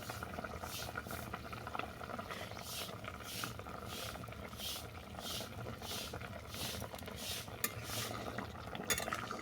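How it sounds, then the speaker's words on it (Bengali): Egg curry gravy bubbles in a pot, a faint steady simmering patter with soft rhythmic pulses and the occasional light clink of a utensil, quiet and close without speech. "ঝোলটা ফুটতে দিলাম"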